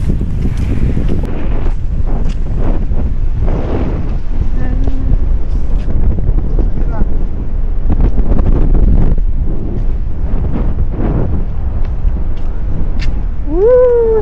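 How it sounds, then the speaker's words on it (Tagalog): Strong wind buffets the microphone in loud rumbling gusts throughout, with a voice talking over it and a brief high whine near the end. "Sobrang hangin, sarap ng hangin"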